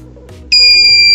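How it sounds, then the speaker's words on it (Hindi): A buzzer wired to an ultrasonic distance sensor in an LCD distance-measuring circuit switches on when an object comes within 10 centimetres, a sudden loud, steady electronic tone that cuts in halfway and holds. "जब भी हम इस अल्ट्रासोनिक के 10 सेंटीमीटर के अंदर की रेंज में आएंगे तो हमारा बजर ऑन हो जाएगा"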